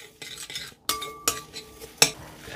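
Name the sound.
mixing meatball mixture with utensil in bowl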